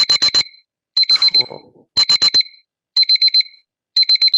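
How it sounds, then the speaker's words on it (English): A timer alarm goes off during a county planning commission meeting, a piercing electronic beeping in five evenly spaced bursts of rapid pulses, loud and close, with a brief spoken word and some noise between the first bursts. "There's the timer."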